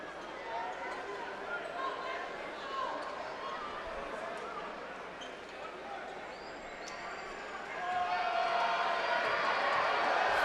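A basketball arena crowd at a UCLA versus Cal Poly men's game keeps up a steady, broad applause and cheering as a player leaves the court, swelling louder near the end, with an announcer's voice mixed in.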